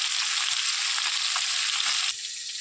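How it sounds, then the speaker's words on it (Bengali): Small bata fish frying in a pan make a loud, dense, continuous sizzle close by that drops off slightly near the end, with no talking. "এবার ভালো করে এই মাছটাকে ভেজে নেবো"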